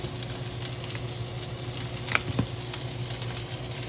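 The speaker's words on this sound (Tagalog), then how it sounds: "Kumukulo." Soft bubbling and sizzling from a pot of sinigang soup on the heat, a steady simmer with a couple of sharper pops near the middle.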